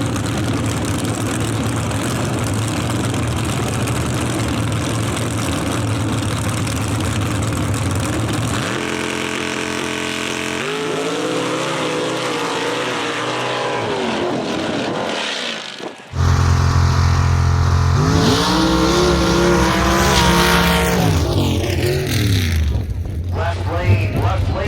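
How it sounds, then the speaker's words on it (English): Nitrous-fed drag racing machines on a sand track roar loudly and continuously, with a steady engine drone that shifts in pitch partway through and then surges again. Background voices are also present. "Alright, make sure you pay attention to this race."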